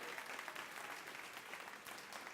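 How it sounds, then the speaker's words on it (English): Faint audience applause at a Green Task Force breakfast, a steady wash of clapping held at a distance for a couple of seconds. "Let's give him a round of applause."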